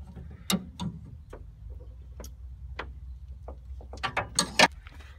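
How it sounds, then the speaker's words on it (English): A CNG high pressure filter housing screwed back on by hand, close metallic clicks, scrapes and ratcheting ticks at an uneven pace, with a denser cluster of sharp clicks near the end. "Tighten it back on."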